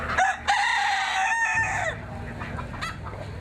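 Chickens at a rural ploughing match and country show: a rooster crows loudly and close, followed by scattered clucks and softer fowl calls over a faint background hum.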